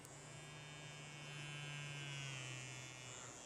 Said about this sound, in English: the thing that it's taped to is a vibrating toothbrush.